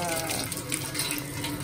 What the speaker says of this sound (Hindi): शुक्र है इतने दिनों बाद इतना तेज पानी आया है।